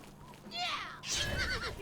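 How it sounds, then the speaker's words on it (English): Horse in the video game The Elder Scrolls IV: Oblivion gives a whinny and then a second, louder neigh, close and brief, with some faint background tones. "Leave my horse alone."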